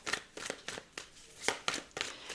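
Tarot cards being shuffled by hand, with a series of about eight quick, crisp riffling bursts in uneven rhythm, close but quiet, with no voices.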